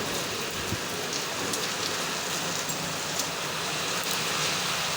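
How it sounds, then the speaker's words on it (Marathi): A steady, dense rain falls on surfaces around a home in Kolhapur during the monsoon, an even hiss holding constant throughout with no talking. "तर चला म्हटलं पाऊस आला"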